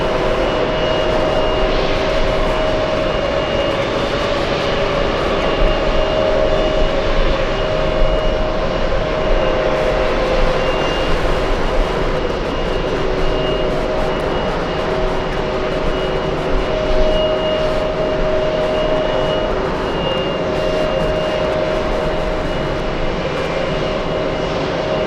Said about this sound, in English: That's the noisy plane.